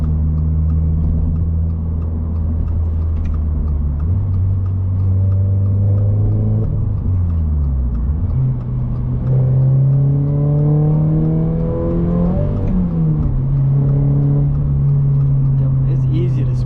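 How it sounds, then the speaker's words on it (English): Manual 2024 Toyota GR86 exhaust droning from inside the cabin while driving, revs rising and falling through gear changes, loud and continuous with a voice talking over it. "The exhaust does sound nice."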